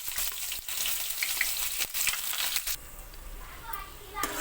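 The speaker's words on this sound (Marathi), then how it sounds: "आता यामध्ये आपण कढीपत्ता घालून घेऊ. कढीपत्ता चांगला होऊ द्यायचा." Curry leaves frying in hot oil with cumin in a home kitchen, giving a steady loud sizzle that runs the whole time with brief crackling bursts, and no voices.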